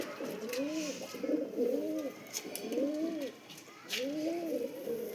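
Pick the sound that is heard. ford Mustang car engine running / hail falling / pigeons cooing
pigeons cooing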